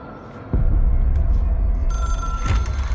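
Hotline phone ringing in the video game Control, a sharp ring beginning after a brief pause and carrying over a low rumbling room tone, loud and close.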